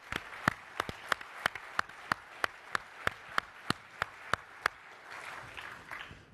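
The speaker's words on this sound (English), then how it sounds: "So I'd like to get a big round of applause for all of you." A conference audience claps. Sharp, evenly spaced single claps ring out at a steady beat and fairly quietly, then loosen into a softer, scattered patter near the end.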